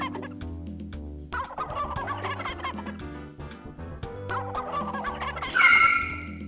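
Wild turkeys gobble repeatedly outdoors during turkey season, a run of rattling gobbles at moderate loudness with a louder burst near the end.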